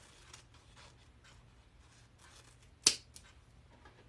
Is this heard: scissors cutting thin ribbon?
yes